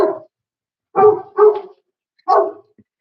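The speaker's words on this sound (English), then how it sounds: "there go the dogs." Dogs barking indoors at home: a short bark, then a quick close pair, then one more after a pause, each sharp and mid-pitched, loud and near, with silence between.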